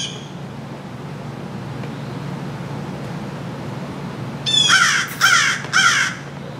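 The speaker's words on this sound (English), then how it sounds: "Have to excuse the feathered friends in the background. They're a little loud today." Crows caw loudly in the background during outdoor electrical lighting work, three harsh calls close together near the end over a steady hiss of ambient and traffic noise.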